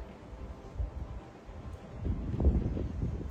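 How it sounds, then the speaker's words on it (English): Wind blows outdoors under grey clouds, a low, steady rushing buffet against the microphone that swells louder toward the end, with no talking. "It's getting windy and there's grey clouds outside again."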